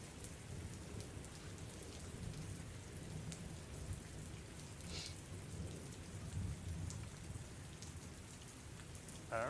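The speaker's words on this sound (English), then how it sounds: "So rain has been beating in people's faces, falling out of the sky, beating on the streets." Steady, dense rain pours as a continuous hiss across the whole stretch, with low rumbles of distant thunder underneath and no voices.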